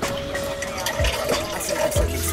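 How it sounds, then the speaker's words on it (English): A Japanese bidet toilet running its water jet, a steady hiss of spraying water with a faint electric hum, gurgles and a few soft thumps, close and fairly loud. "By pressing on this button right here, you can apply the jet of water to the anus."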